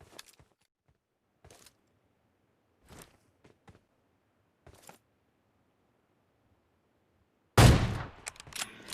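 Gunfire from an M416 assault rifle in a shooter video game: a few faint, scattered sharp reports, then a sudden loud, close burst of rapid shots near the end.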